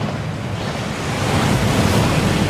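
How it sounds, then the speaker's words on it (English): A waterfall in the Hogwarts Legacy video game gives a loud, steady, broadband rush of pouring water, continuous and close, with no talk. "That waterfall washes away all enchantments."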